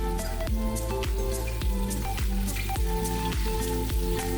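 Minced ginger and chopped green chilies sautéing in a hot pan, a dense continuous sizzle and crackle of oil, close and fairly loud, with rhythmic scraping stirs throughout and no talking.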